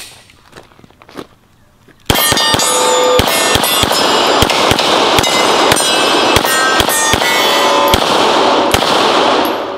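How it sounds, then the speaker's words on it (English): Gunshots fired at a steel gong target, starting after two seconds of quiet handling noise: a rapid, loud string of about a dozen sharp cracks, each with a ringing metallic echo that blends into a continuous roar. "Yeah, I just want to shoot some more."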